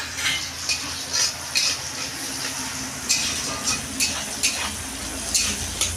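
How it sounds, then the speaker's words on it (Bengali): Carrots frying in oil in a pan, a steady sizzle broken by repeated scraping and stirring clinks from a utensil, close and fairly loud, with no talking. "গাজরটা ভাজা হয়ে গেছে, আমি তুলে নিচ্ছি"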